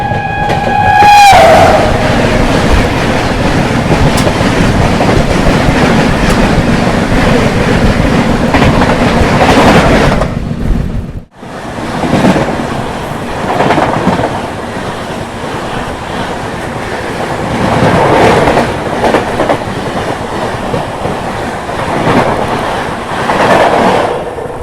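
The Bhubaneswar–Delhi Tejas Rajdhani Express roars past close by, its horn sounding at the start, then a sustained loud rumble and clickety-clack of wheels over rail joints that dips briefly and rolls on steadily.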